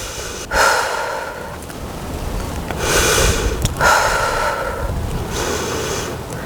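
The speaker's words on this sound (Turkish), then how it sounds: "Bekle bakalım nefesini al ver." Heavy, rhythmic breathing from someone holding a high plank during a core workout, close and loud, with long sharp inhales and exhales repeating every couple of seconds.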